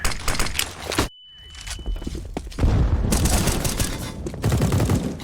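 A flashbang grenade in Counter-Strike: a sudden cutout to near silence with a thin high ringing tone, then game noise returns, surrounded by rapid gunfire bursts, footsteps and heavy booms.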